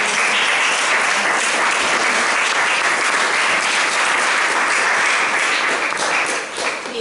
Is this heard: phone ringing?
no